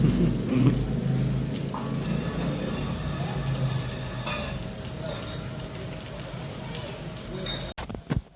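Steady rain falling over a quiet residential housing society, a continuous hiss and patter close by, with faint talk underneath and a few sharp knocks at the end.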